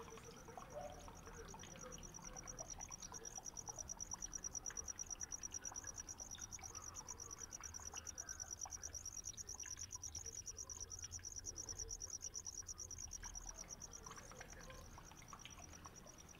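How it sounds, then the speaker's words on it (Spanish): Crickets chirp in a continuous high, pulsing trill, steady and fairly faint, with a few distant bird calls in the background. "te voy a enseñar lo de los grillos"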